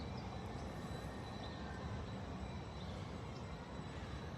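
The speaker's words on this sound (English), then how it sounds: "So the train, I believe, is coming, guys." A San Francisco Muni train rolls in with a steady, loud broadband rumble and roar that holds throughout, faint higher screeches from the rails drifting over the top, and no voices.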